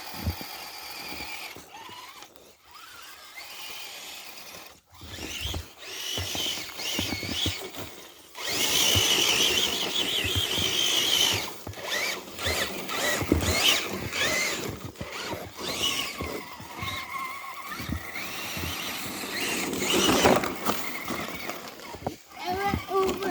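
An RC crawler truck drives over a lawn outdoors, its small electric motor whining faintly in bursts under near, frequent talk from several people, with rustling and scuffing throughout.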